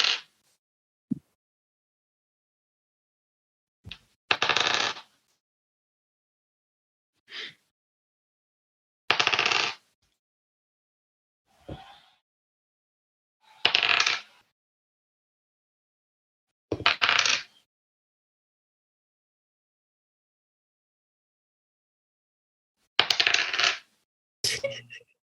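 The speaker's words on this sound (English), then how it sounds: "I got a lot of dice to roll." Many dice are rolled for a Dungeons & Dragons game, with about ten separate clattering bursts on a table spread across quiet gaps, each loud and close.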